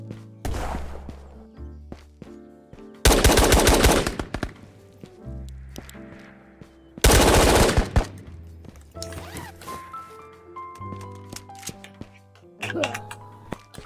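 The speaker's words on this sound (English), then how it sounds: "So I'm being shot at." Enemy gunfire in the VR shooter Ghosts of Tabor cracks out in two loud, dense volleys plus scattered single shots and clatters, mixed with talking voices.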